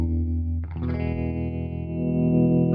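An electric guitar played through a Fender Tone Master Deluxe Reverb digital amp sustains a chord, then a new chord rings out with heavy, lush reverb and a swirling tail.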